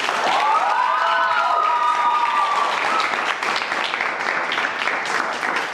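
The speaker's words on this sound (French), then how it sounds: "applaudissez." A school show audience breaks into loud, sustained applause with some cheering and a rising whoop near the start, a dense crowd sound that holds steady to the end.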